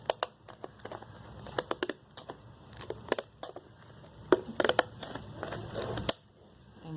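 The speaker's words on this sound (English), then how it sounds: "you can get a pair of zigzag scissors" Zigzag scissors snip through paper while trimming flashcard edges, giving a string of quick, crisp cuts and clicks close by, irregular bursts with brief pauses between them.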